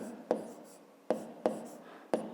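Pen or chalk writing on a board during a 5th-grade math lesson, as lengths and sides are written down: scratchy strokes punctuated by four sharp taps at the starts of marks, with no talk.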